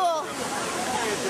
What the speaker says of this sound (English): The second largest U.S. year-round waterfall, behind only Yosemite.